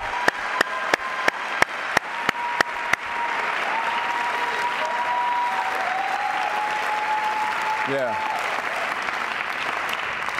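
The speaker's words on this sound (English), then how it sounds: "Can we give them a hand clap for their work towards putting this sermon together?" A church congregation claps for a sermon team, a few sharp individual claps at the start swelling into sustained applause from the crowd, with a voice speaking briefly over it.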